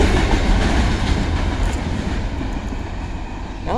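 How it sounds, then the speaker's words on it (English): A short freight train of garbage cars rolls past nearby, giving a loud, steady rumble with rhythmic wheel clatter and a brief squeal near the end. "Would I say that's a short freight train?"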